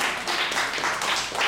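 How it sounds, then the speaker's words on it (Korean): A church congregation applauds during a sermon, a short dense burst of clapping filling the room at moderate loudness. "박수 한번 주죠."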